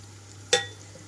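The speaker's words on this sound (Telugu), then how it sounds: "ఇప్పుడు ఇందులోనే వెల్లుల్లి రెమ్మలు అలాగే కొన్ని కరివేపాకు కూడా వేసేసుకుంటున్నాము" Garlic cloves and curry leaves dropped into hot oil in a pan while cooking a spiny gourd curry, a single sharp sizzling burst that quickly fades against a quiet low hum.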